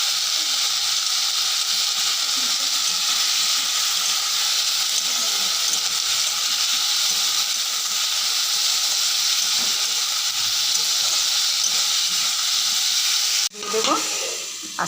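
Bottle gourd peel fries in a pan with turmeric and salt, giving a steady, loud, even sizzle and hiss that runs without a break until a brief clatter near the end.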